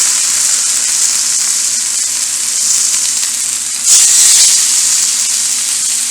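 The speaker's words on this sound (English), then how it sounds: "it's smoking hot because we want to get a nice sear on this" Pacific cod fillet searing in a smoking-hot oiled pan, a loud, close, continuous sizzle that flares briefly brighter partway through.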